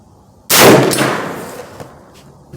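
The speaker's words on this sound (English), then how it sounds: "I'm gonna be shooting the second shot with whitetail right up a target." A single loud rifle shot from a 450 Bushmaster firing Hornady Whitetail 245gr soft-point ammunition cracks sharply and rolls off in a long, fading echo, with no one talking.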